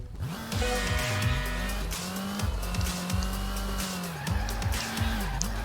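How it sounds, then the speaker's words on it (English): Car drifting in a racing video game, the engine revving and dipping through repeated gear swoops while a sustained tyre squeal runs over it, loud and close throughout. "just let me get the hang of drifting again"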